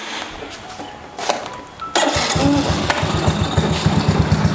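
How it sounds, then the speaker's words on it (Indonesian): An old antique motorcycle engine starts with a sharp catch after a brief crank, then settles into a steady, close, rhythmic idle with an even pulsing beat. "Ini juga antik juga sih motor ini."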